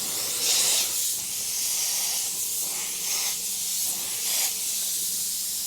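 An airbrush hisses steadily as paint is sprayed from a distance over a skull stencil, with a few brief louder bursts in a continuous airy stream and no talking.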